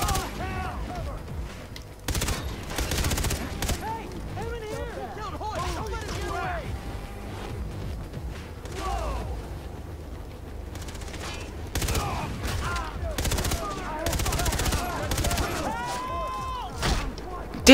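Gunfire from the Far Cry video game rattles in repeated bursts, loud and close, with explosive booms and mechanical clatter between them and excited talk running over the top.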